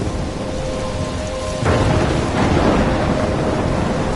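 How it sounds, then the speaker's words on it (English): Thunderstorm with heavy steady rain in Life is Strange, a constant wash of rain joined midway by a sudden loud thunderclap that rumbles on. "I'm trapped in a storm?"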